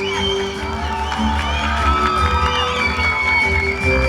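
A crowd cheers and whoops loudly and without a break for a student who won third prize in javelin at a university sports meet, with children shouting among the dense, steady noise.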